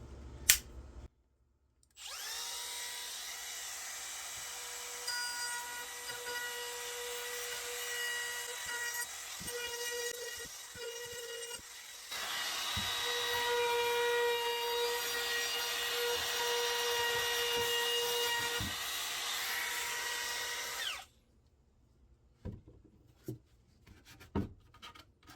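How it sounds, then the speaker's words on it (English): A router trims a very slight chamfer along the edge of a wooden farmhouse tabletop, a loud steady whine that runs for about nineteen seconds with a brief dip midway, then stops and leaves a few faint knocks. "So we're going to use this router. It's going to be a very slight chamfer."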